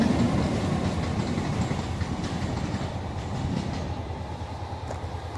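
A Class 313 electric multiple unit passes on the East Coast Main Line at Bowes Park, a steady, loud rumble of wheels and carriages with faint clickety-clack, continuous throughout and fading slightly toward the end.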